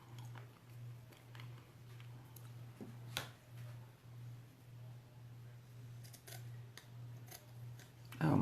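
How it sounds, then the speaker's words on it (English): Scissors struggle through wire ribbon in a quiet room, making a series of soft snips and clicks over a steady low hum, with one sharper cut near the middle and a louder rustle at the end. "my scissors don't want to cut tonight for some reason"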